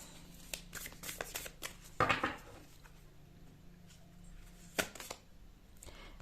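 Tarot cards are shuffled by hand to draw another card: soft, quiet riffling and papery flicks, with a sharper burst of shuffling partway through and a few light taps. No voices.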